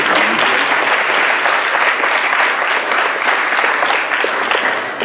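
Sustained, dense applause from a live audience at a public debate, steady and loud throughout with no gaps, honoring the debaters from Bard and West Point.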